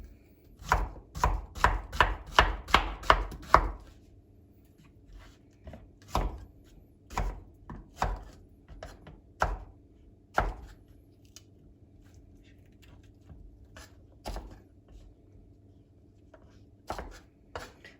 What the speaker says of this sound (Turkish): Şimdi şu kabaklarımı da hemen bir doğrayayım